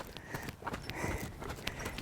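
A young horse's hooves walk in an arena, giving regular clip-clop footfalls at a steady pace with some creaks of tack, fairly close and without talk.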